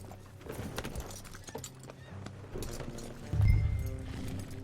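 Hooves clip-clop in a steady galloping rhythm as a horse runs in a video game, mid-loud beneath a layer of game music and ambience, with a heavier thump near the end.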